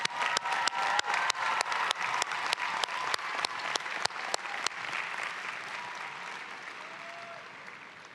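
A spring commencement crowd applauds its student speaker, with sharp nearby individual claps standing out over the broad applause before it gradually thins and fades.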